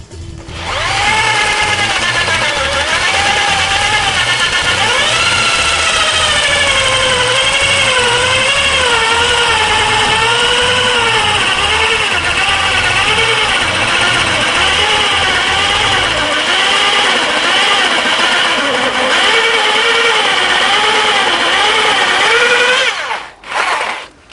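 A power drill bores a hole into wood to make smoking chips. A loud, steady motor whine wavers in pitch and runs continuously for over twenty seconds, then cuts off abruptly at the end.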